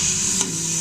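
Tadka tempering sizzles steadily in a pan, a bright hissing fry with a brief stirring scrape partway through, heard up close with no talking.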